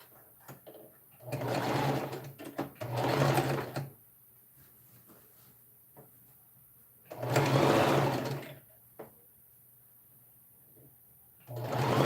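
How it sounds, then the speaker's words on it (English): Sewing machine stitching down a sleeve seam, running in three distinct bursts of a few seconds each with quiet pauses between, close and clear with no talk over it. "So I'll stitch this place down."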